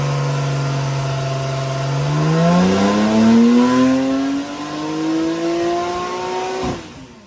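A base Porsche 992 Carrera flat-six fitted with a Flat 6 Motorsports Stage 3 power kit revs on a dyno, its loud engine note climbing steadily in pitch before abruptly cutting off near the end.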